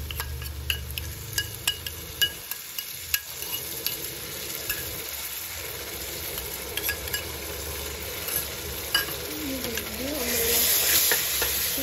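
Garlic and ginger fry and sizzle steadily in a pan for chicken biryani while a spoon stirs and scrapes with light clinks near the start, and the sizzle swells louder toward the end.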